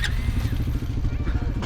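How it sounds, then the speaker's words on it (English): A Temu TR125 dirt bike engine running just after starting, a close, steady low-pitched putter with a rapid even pulse, while someone talks over it. "Bro, that starts better than my bike at home."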